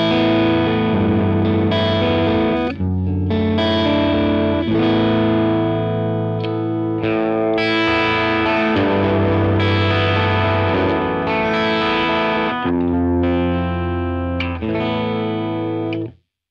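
Electric guitar played through an Axe-FX amp modeler, a distorted, effects-laden tone with sustained chords and notes, short gaps between phrases, loud and close with no talking.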